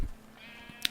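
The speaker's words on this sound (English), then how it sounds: "Ooh, a black sheep." A Minecraft sheep gives a single short, high bleat near the end, faint and brief over a quiet game backdrop.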